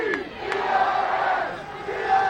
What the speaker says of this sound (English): They're in the familiar cheer right now.